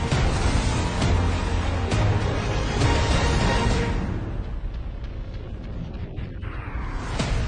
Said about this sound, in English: the sight of a dreadnought on the horizon launching its nuclear missile